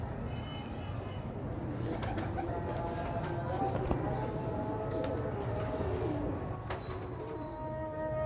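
Several pigeons coo continuously in overlapping low calls, with brief wing flutters and faint voices in the background.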